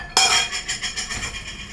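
A mixing bowl for pancake batter is set down and handled, giving one sharp clink followed by a run of ringing taps and rattles, close and fairly loud with no voices.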